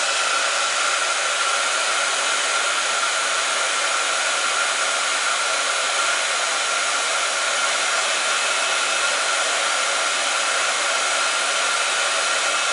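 A handheld heat gun blows steadily and loudly while warming decorative puffy snow paint, a constant broadband whoosh that holds unchanged for the whole stretch with no voices.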